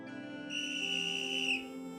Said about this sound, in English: And with a whistle blown, we are officially off